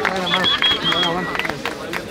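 Crowd at a freestyle rap battle applauding and cheering for a battle rapper, a lively mix of clapping, whistles and shouting voices over a brief two seconds.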